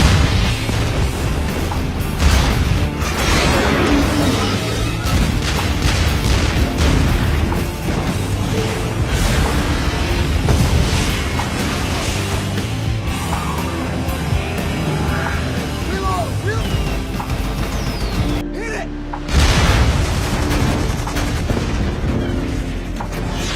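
A relentless barrage of heavy naval cannon fire from a warship and booming explosions, loud and dense throughout, with a brief lull near the end.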